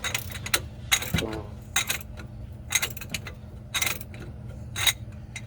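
A ratchet fitted with an extension works loose the sway bar link nut on a 2005 Saturn Vue, giving bursts of sharp metallic clicking and clanks between short pauses, close up.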